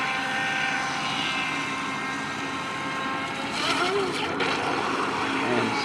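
A Double Horse 7009 speed boat at full throttle makes a turn, its motor whining steadily with a high buzzing drone and a rising swell of water noise near the end.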